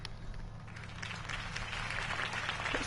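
Crowd applause inside a Batman video game, a steady wash of clapping from a political rally audience continuing throughout at moderate level, with low game music humming underneath and no speech.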